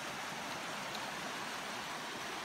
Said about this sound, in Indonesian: ini sungai orang sini menyebutnya besuk oh, sungai besar